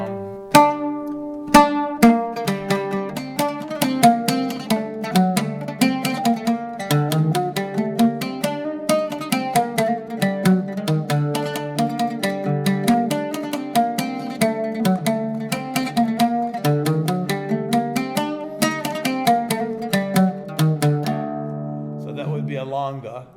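A fast longa in nahawand style plays as bright, rapid plucked-string music with dense rhythmic note runs over a steady low line, loud and continuous for over twenty seconds.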